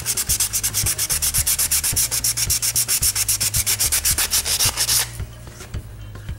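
Rapid, rhythmic sanding strokes scrape back and forth across a surface, loud and close, about eight strokes a second, then trail off into quieter rubbing.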